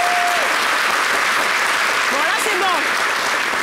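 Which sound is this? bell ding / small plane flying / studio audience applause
studio audience applause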